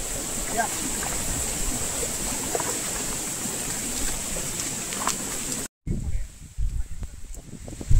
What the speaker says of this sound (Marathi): उंच डोंगरातनं हे सगळे धबधबे झरे कोसळत येत आहेत